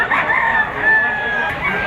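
A young rooster (stag) crows once in a single drawn-out, loud and close call, rising and wavering before trailing off.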